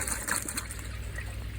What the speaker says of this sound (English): Make sure you run the water through the dechlorinator until you've got clear water coming out.